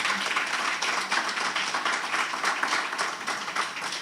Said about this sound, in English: Clap them.